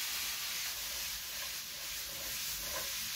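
Spices sizzling with onions in a hot pan for a curry base, a steady close hiss of frying that stays even throughout with small crackles rising here and there.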